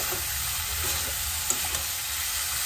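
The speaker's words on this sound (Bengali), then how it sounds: "ভাজা ব্রোকলিগুলো আমি এর মধ্যে দিয়ে দেবো, দিয়ে ভালো করে একসাথে আলুর সাথে কষে নেব" Fried broccoli and potatoes stir-fry in a pan with a steady, close sizzle and hiss, punctuated by a couple of faint scraping taps from stirring.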